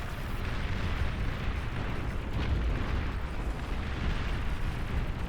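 Steady, heavy roar of battlefield explosions and booming artillery fills the whole stretch in Beyond All Reason, among them Fat Boy artillery fire, with no clear breaks between blasts.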